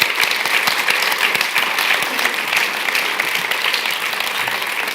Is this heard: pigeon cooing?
no